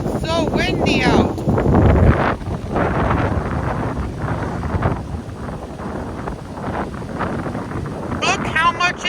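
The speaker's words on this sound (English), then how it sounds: "It's so windy out." Strong wind buffets the microphone on a Lake Michigan beach on a rainy day, a loud continuous roar with gusts, while a person talks over it.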